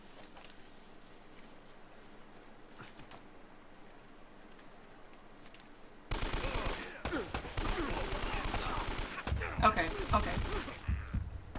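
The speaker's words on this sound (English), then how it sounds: "I hate automatic weapons." Automatic weapons fire in Uncharted: Drake's Fortune erupts after a quiet stretch, dense rattling bursts and loud shots crowding together at close range, with a brief spoken word beforehand.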